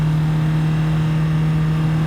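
An MGB-GT runs on track at Silverstone, its engine a steady, loud in-car drone holding a constant pitch under load, with no voices.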